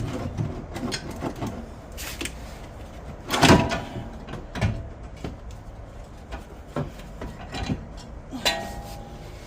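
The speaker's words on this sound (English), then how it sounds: "And now we need to wrestle the strut out of here." An old strut is wrestled out of a Toyota Highlander's suspension, with clunks, metallic knocks and scraping bangs at irregular intervals, one loud thud standing out, close up in a garage.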